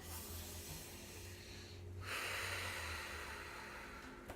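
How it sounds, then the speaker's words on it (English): A person draws a breath up close, a soft airy inhale that turns into a longer steady rush of air, with faint low background hum. "So, if you could take a breath."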